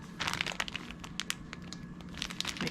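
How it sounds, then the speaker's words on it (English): A plastic freezer bag filled with mashed tomatoes crinkles and rustles continuously as it is handled and zipped shut, close and fairly quiet, with no talking. "Zip it to about 1 inch from the end."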